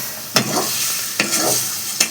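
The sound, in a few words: stirring and frying chicken in a pan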